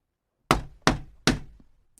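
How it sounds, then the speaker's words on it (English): Three firm knocks on a shop door, evenly spaced and close, each a sharp solid thud that rings briefly before fading. "Finally, he knocked on the shop door."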